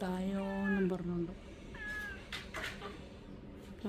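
A cat meows insistently for food at close range, giving a long drawn-out cry followed by a shorter, rising meow, with a person speaking softly underneath.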